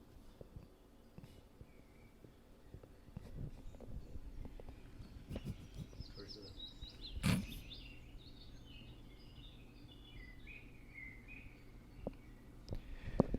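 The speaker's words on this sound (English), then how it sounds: "Just a couple birds chirping." A few faint, high bird chirps sound sparsely against a quiet outdoor background with low rumble, no one speaking.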